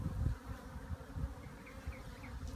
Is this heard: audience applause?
no